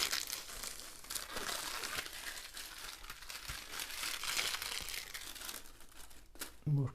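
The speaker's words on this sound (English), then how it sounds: "Need to get the clear film off first." Clear plastic film is peeled and crinkled off a diamond painting kit package, giving a steady close-up rustle and crackle of thin plastic with a louder crunch near the end.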